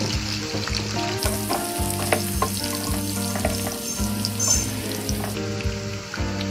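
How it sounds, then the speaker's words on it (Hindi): Green chillies sizzle and fry in a pan for an aloo baingan dish, with a steady crackling hiss broken by repeated scraping stir strokes, close and fairly loud with no talking. "हरी मिर्च थोड़ी सॉफ्ट हो जाए तब तक हम इसको चलाएंगे सिर्फ 2 मिनट।"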